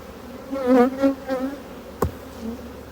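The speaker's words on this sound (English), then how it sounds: "I don't know if this hive's a little more aggressive than the others" Honey bees from an aggressive hive buzz close by in short wavering bursts, loud for a moment then easing, with a brief knock partway through.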